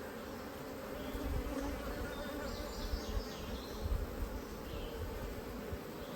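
Honeybees in rescued hives buzz in a dense, steady drone, close and continuous, with a few individual bees passing nearby.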